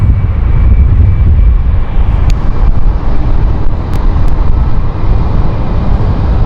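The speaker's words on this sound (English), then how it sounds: "Currently going right now is the Edinburgh flight" An airliner on the Edinburgh flight departing London City Airport, a loud, heavy low roar of jet engines that holds steady throughout, with some wind buffeting on the microphone.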